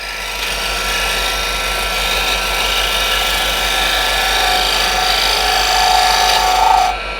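A woodturning tool cuts wood on a lathe with a very light touch, producing a steady, dense, fairly loud rasping hiss that holds constant throughout before dropping away abruptly at the end.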